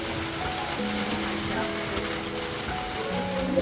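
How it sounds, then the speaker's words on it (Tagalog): Rain pours steadily at a house construction site in the Philippines, a dense continuous hiss with faint mechanical clicking tones and possible soft voices underneath. "Inabot na tayo ng ulan o paggawa ng bahay."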